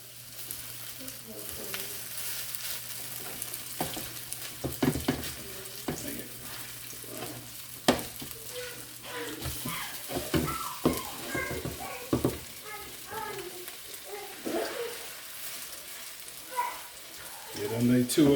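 Hash browns fry in a skillet with a soft, steady crackling sizzle under someone speaking, broken by occasional clanks and scrapes of a spatula against the pan.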